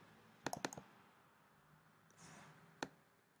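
A few faint, quick clicks of typing on a computer keyboard in a quiet room, in two brief bursts separated by a soft rustle, with no talk.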